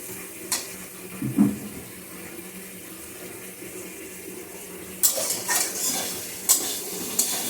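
Potatoes are stirred and sautéed in a pan for a dried hilsa fish curry, with soft scraping and clinks, a faint sizzle, and a burst of louder clattering and stirring near the end, with no one talking.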